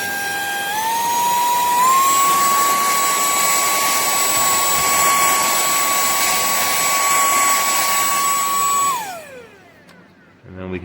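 A semart cordless handheld car vacuum cleaner with 24000Pa suction runs with a loud, steady high-pitched whine. The pitch steps up once near the start, holds for several seconds, then spins down as the motor switches off.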